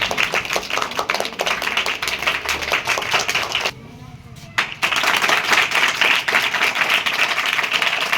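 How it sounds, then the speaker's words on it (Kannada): Sustained audience applause at a school science-day quiz, many hands clapping densely for several seconds, briefly dropping to near silence midway before resuming just as loud. "ಸೊ ಮತ್ತೊಮ್ಮೆ ಚಪ್ಪಾಳೆ ಬರಲಿ."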